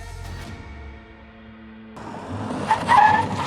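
Tires skid and squeal on a Mahindra XUV700 during an automatic emergency braking test at an air base, rising loud and close near the end after a steadier engine and road hum.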